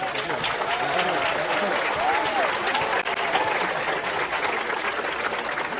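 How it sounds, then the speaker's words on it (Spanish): An audience at a church gathering breaks into sustained applause, a dense wash of clapping that holds steady throughout, with faint voices and a few brief whistles or calls rising over it. "Un aplauso para él."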